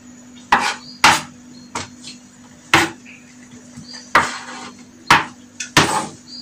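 Knife chopping celery and a colored bell pepper on a cutting board for a Congolese makusa makoso and spaghetti pepper soup dish: about nine sharp, separate chops at an irregular pace, close and clear against a low steady hum.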